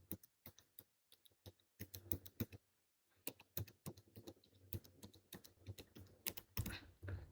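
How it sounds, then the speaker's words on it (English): Rapid, irregular typing on a computer keyboard as a long key string is entered, with dense bursts of close keystrokes, a brief pause near the middle, then more clattering runs. "So let me use all the keys available in my keyboard."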